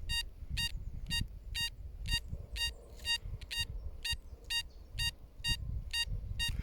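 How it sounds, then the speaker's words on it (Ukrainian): An XP Deus Lite metal detector responds over a denarius coin with a steady series of about eleven short, evenly spaced high electronic beeps, each lasting a fraction of a second, heard alongside low rumbling handling noise outdoors. "Хорош копаємий сигнал."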